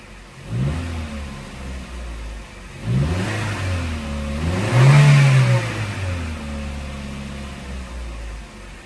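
A used car from a dealer auction idles roughly and is revved in a few rising and falling surges, close and steady, with no talking.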